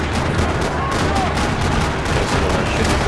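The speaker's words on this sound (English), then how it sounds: "Another parking lot rattling with gunfire." Dense, continuous gunfire from the video game Max Payne 3 rattles in rapid bursts across a parking lot, loud and close, forming an unbroken barrage of shots.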